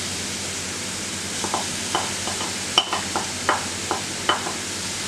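Onions frying with ginger-garlic paste in a pan for spicy beef curry give a steady low sizzle, broken by a string of short scraping stirs from about the middle onward, with no talking.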